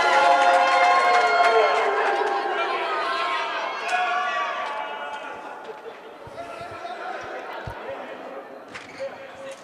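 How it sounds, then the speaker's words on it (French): A crowd in a gymnasium at a volleyball match cheers and applauds the players, a loud swell of voices and clapping that gradually fades, with crowd chatter and scattered sneaker squeaks underneath. "le public présent au gymnase Pandit-Saadé qui applaudit les joueurs"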